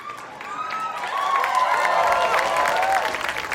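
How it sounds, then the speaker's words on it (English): A studio audience cheers and applauds when the SNL Digital Short logo appears. The crowd noise swells partway through, with whoops and claps blending into a broad roar. "huge cheer for the SNL Digital Short logo"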